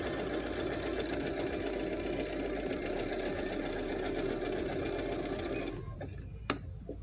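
A Juki Baby Lock overlock sewing machine stitching a heart design, a steady fast mechanical whirring and clattering that runs continuously and then winds down to a stop near the end, followed by a faint click.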